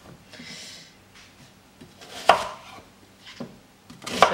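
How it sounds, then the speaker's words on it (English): Knife chopping on a board: a few scattered cuts, then sharper, louder chops near the end, close by, with no talking. "So we're just going to do some basic chopping."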